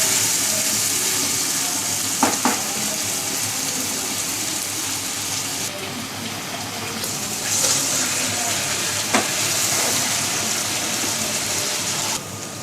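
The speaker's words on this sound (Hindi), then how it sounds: "मिक्स करने के बाद हम थोड़ी देर के लिए आलूओं को इसी तरह से भूनेंगे" Potatoes frying in masala in a pan, a steady loud sizzle that hisses continuously throughout with a couple of brief clinks of stirring and no talking.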